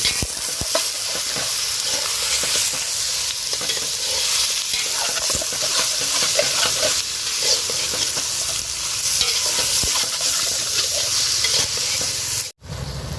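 Chicken pieces for Pallipalayam chicken frying in a pan over softened onions, a loud continuous sizzle broken by repeated stirring scrapes, with a sudden cut near the end.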